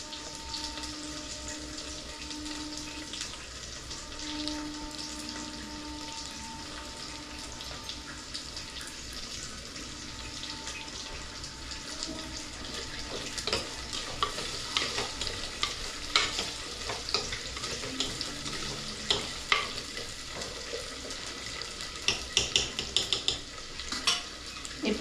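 Garlic and onion frying in oil for a garlic kuzhambu, a steady close sizzle with scraping stirs and light clinks of a utensil against the pan, growing busier and more clattery toward the end.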